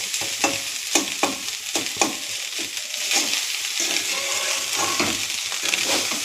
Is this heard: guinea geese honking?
no